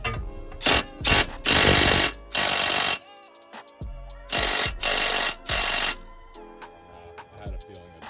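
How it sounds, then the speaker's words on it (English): A DeWalt impact gun hammers at a stubborn suspension bolt on a Lexus SC400/SC300 front suspension, firing in several loud, rattling bursts of about a second each, separated by short pauses, close up with no talking. "I have my DeWalt gun. So we're just gonna try and blast this guy off."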